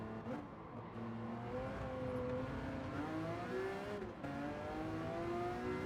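Race car engine in Gran Turismo 7, a steady high-revving drone with rising and falling pitch as it accelerates and shifts, continuous and quiet with no talk.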